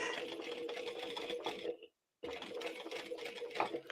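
A sewing machine stitches a seam on a fabric circle bag, whirring steadily at close range, stopping for a brief moment, then running again.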